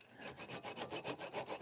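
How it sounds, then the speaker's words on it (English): A small dovetail saw cuts through pine in quick, even strokes, about eight rhythmic rasping pulls heard up close with no talking. "that's probably the best option actually, the little dovetail saw"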